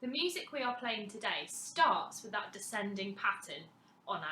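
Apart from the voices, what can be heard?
None of the usual background noises is heard.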